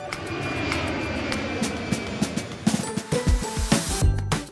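An airplane engine sound effect in a children's vehicle puzzle game, a steady loud propeller-like drone that turns choppier and pulsing toward the end, with no voices.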